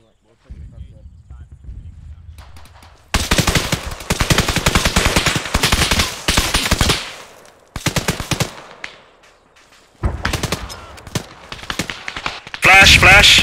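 Sustained bursts of automatic gunfire in ArmA 3 come in dense, loud volleys broken by short pauses, with a heavy boom near the end. Voices can be heard between the shots.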